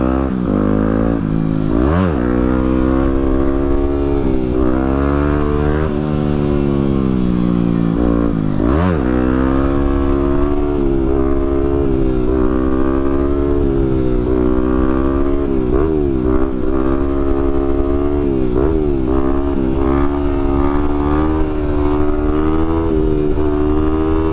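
Several motorcycles revving and riding along a street during a protest in Portland, a loud steady engine drone with rising and falling revs as bikes pass close by, going on without pause and with no talk.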